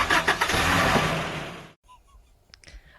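A big cargo truck engine cranks over in a few quick chugs and settles into a loud rumble, then stops suddenly, leaving faint scattered clicks and small noises.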